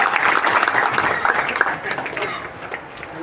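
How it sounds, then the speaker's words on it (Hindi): Applause from an audience at a gathering, a lively burst of clapping that gradually tapers, with a voice speaking over it. "एक बार जोरदार तालियों के साथ"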